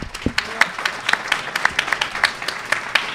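Sparse, uneven clapping from a small debate audience, individual hand claps standing out in an irregular rhythm over a quiet room.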